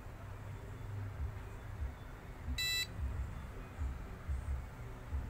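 A short electronic notification beep from an Arduino GSM vehicle accident detector as a message arrives, a single brief tone over a low background hum and room noise.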